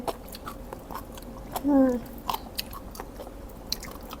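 A single short, crisp crunch from a close bite into firm, springy jellyfish, followed by soft chewing sounds in a quiet room.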